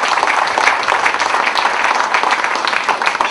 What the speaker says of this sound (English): Please, let's give them a round of applause.